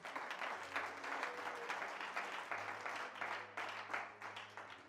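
Church congregation at a French-language service applauding the Lord, a steady wash of many hands clapping, fairly distant and soft, sustained for several seconds.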